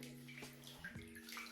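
Water sloshes and drips in a bath as it is squeezed out of wet locs, a soft close-up splashing and trickling over a faint steady hum, with no talking.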